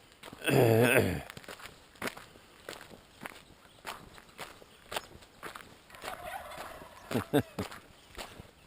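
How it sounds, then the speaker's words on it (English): Wild turkeys gobble in a loud rattling burst close by, followed by fainter gobbles while footsteps crunch steadily on the ground outdoors. "There's a little concert going there,"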